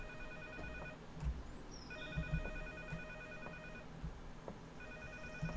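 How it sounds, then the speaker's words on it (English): A telephone rings inside a video game, its repeated bell bursts cycling steadily at moderate distance behind low ambient game noise, with no talk. "Where's that phone sound coming from?"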